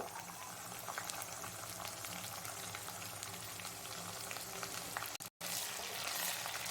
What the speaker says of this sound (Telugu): అల్లం వెల్లుల్లి ముద్ద వేసి పచ్చివాసన పోయేంత వరకు మనం ఫ్రై చేసుకోవాలండి